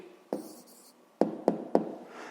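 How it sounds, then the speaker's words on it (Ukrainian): A pen or pencil writes an answer for a fifth-grade maths exercise, giving a few sharp taps and short scratching strokes at close range, with no voices. "Пишемо відповідь"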